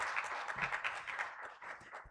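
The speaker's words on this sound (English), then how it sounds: "And yes, a round of applause." Applause at a conference breakout workshop session, a short burst of steady clapping from a small audience, fairly close and moderately loud, with no talking over it.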